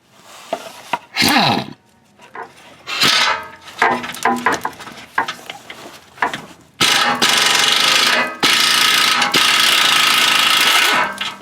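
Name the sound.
impact wrench removing catalytic converter bolts on Honda Civic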